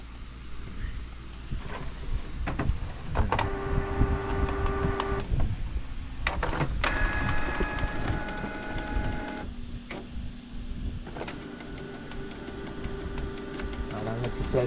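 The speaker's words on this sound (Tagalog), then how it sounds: "Print tayo ng nozzle." An Epson G1010 inkjet printer refilled with Universal Ink runs a nozzle check, giving repeated mechanical whirring and tonal motor passes of the print head over a steady hum, with a brief voice in the background.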